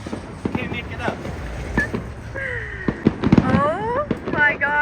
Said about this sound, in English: There's fireworks going on behind you.